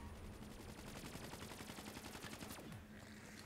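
Steady rapid gunfire fired at the Giant in a zombie-round shooter game, a continuous rattling stream of shots that cuts off near the end.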